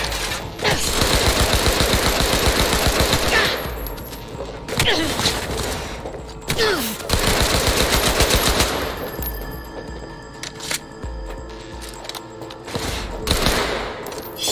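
Weapon fire in the Cyberpunk 2077 training area: long automatic bursts and separate heavy shots, loud and close, broken by short gaps, with a voice talking in places.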